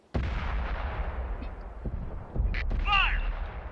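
Tank cannon firing in the World of Tanks video game, a heavy boom over constant engine rumble, followed by a sharp crack and metallic ringing, with a voice shouting.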